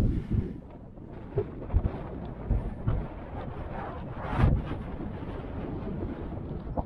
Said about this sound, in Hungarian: Szél is feltámadt.